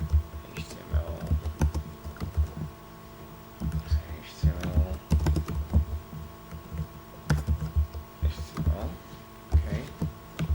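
Someone types on a computer keyboard in quick clusters of clicks under a talking voice, with a low hum in the background.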